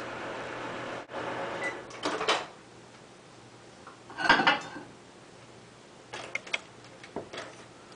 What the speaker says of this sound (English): Take my spoon to stir it up.